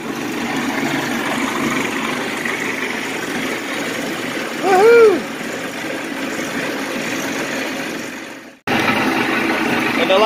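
A homemade electric boat motor runs out of the water inside a hollow box, giving a steady, fairly loud whirring drone that fades and cuts out, then kicks straight back in at full level.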